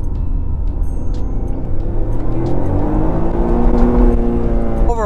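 A Toyota GR Corolla's G16E-GTS turbocharged three-cylinder revs hard and bangs off the rev limiter, a loud close engine roar that climbs in pitch and stutters rapidly at the top, with no voices.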